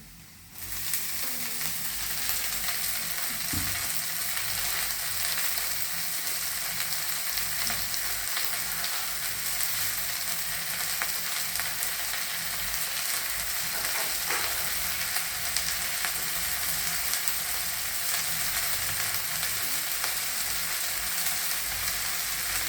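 Washed pokla greens tipped into browned onions and sautéed in a pan, a loud steady hiss of frying that starts abruptly and holds for over twenty seconds, with a couple of faint stirring knocks.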